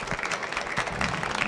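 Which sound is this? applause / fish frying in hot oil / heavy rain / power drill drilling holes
applause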